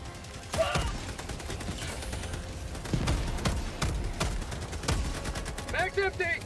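Rapid automatic gunfire in the video game Helldivers 2 crackles in repeated sharp bursts over a busy combat soundscape, with a voice speaking briefly near the end.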